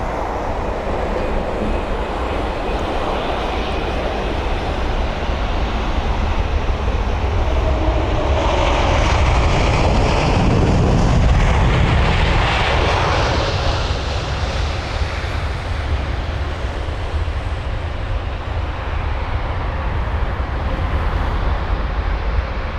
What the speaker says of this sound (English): But that 787 which we had just seen arrive is loud, very loud.